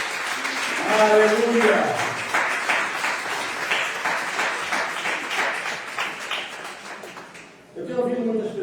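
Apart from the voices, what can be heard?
church congregation applauding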